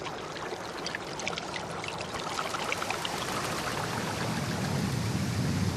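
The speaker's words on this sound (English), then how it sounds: "the herring release air bubbles to adjust their buoyancy" Herring releasing air bubbles underwater: a dense, continuous fizzing and trickling of bubbles that slowly grows fuller.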